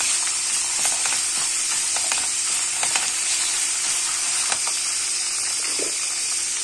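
Tomato paste sizzles in a pot of bulgur pilaf with kidney beans, meat and potatoes, a steady close frying hiss with faint stirring clicks and no talk.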